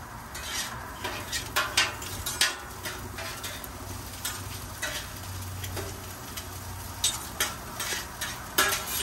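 Garlic with chopped onion and green onion sizzles steadily on a hot Blackstone griddle, broken by repeated metal spatula scrapes and taps, close up with no talking.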